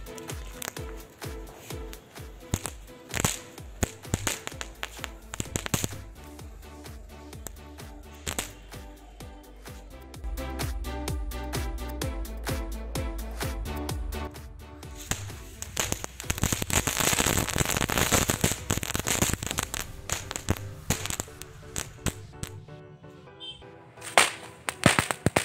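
Assorted Diwali firecrackers set off in testing, giving a long run of sharp cracks, pops and crackling bursts, some in rapid volleys, with denser clusters toward the end.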